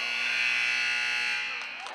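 A long, loud electronic buzzer blares at a girls' basketball game, holding a steady harsh tone for about a second and a half before cutting off into crowd noise.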